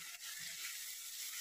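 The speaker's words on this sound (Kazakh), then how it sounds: "Міне, болгар бұрышы қуырылып жатыр." Chopped bell pepper fries in a pan, a soft continuous sizzle with faint stirring clatter, quiet and close with no talking.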